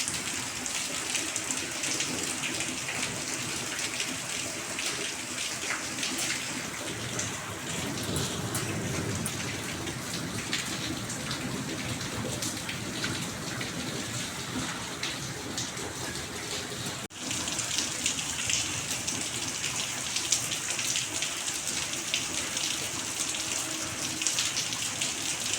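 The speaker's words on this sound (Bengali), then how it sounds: "কি সুন্দর বৃষ্টি হচ্ছে এতদিন পর" Heavy rain pouring down steadily in a dense, continuous hiss, close by, after a long hot spell, with no talking over it.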